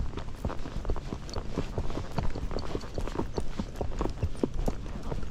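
Steady clip-clop of a grey Missouri Fox Trotter horse's hooves walking on a trail at an even pace, close by, with a continuous rustling background and no talking.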